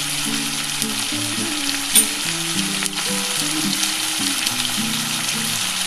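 Spiced water with turmeric sizzles and fries steadily in a hot pan while being stirred, a continuous close crackle with a few scraping stirs and a brief clink near two seconds, no voices.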